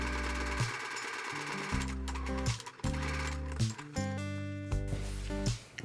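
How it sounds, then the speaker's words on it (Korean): A sewing machine runs in short zigzag stitching bursts on a mini tote bag strap, with close mechanical whirring that starts and stops several times. "그냥 재봉해 주셔도 되고 지그재그로 재봉을 해주셔도 됩니다"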